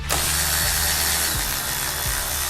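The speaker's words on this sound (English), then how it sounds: "when you're screwing metal bolts into an aluminum head, go slow" A power tool runs continuously while screwing metal bolts into the aluminum head of an SE Racing Blocks Flyer 2021 bike, a loud steady whir close by with a few faint ratcheting clicks.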